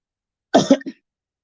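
A single short, close cough in two quick bursts, with silence before and after.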